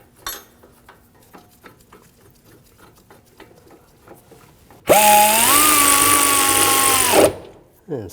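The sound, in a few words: tightening Volvo S60 brake bracket bolts with a tool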